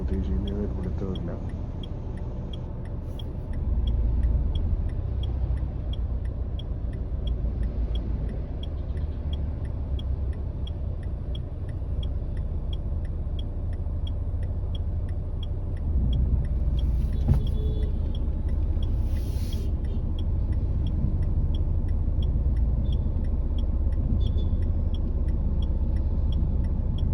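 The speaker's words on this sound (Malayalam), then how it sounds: "അപ്പോൾ നമ്മൾ ഇത് ഷോറൂമിൻ്റെ ഉള്ളിലോട്ട് വണ്ടി തിരിച്ച് കയറ്റും കേട്ടോ" Renault Duster car driven slowly into a showroom, its engine a steady low rumble throughout with a brief clink or rattle near the end and some background noise.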